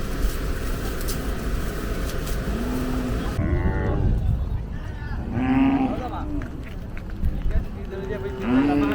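Cattle lowing at a country cattle fair in Kannapuram, with several moos rising over a busy crowd and steady background chatter; people talk throughout.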